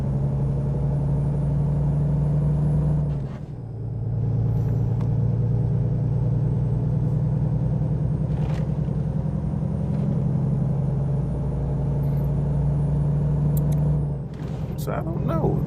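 Steady low engine drone of a truck rolling along in American Truck Simulator, a constant rumble with a brief dip near the start and again near the end, with no talk over it.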